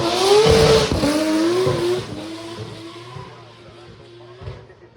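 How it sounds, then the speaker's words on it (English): A Toyota GR Super Drift car races up the Goodwood hill, its engine screaming loud and close at first, then fading as it pulls away, with a commentator's voice audible over it. "this is the Toyota GR Super Drift with Cali Rosentera"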